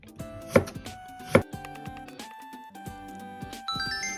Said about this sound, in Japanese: これは、短冊切りにしてやっていきます。